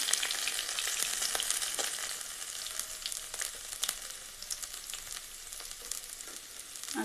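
Fish frying in hot oil in a home kitchen, a steady broadband sizzle that stays loud and close throughout, broken by brief crackles and pops and a few soft stirring taps.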